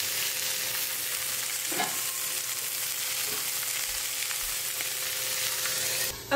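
Wild Alaskan king salmon patties fry steadily in a pan, a continuous close, even sizzle with a few faint knocks and no talking.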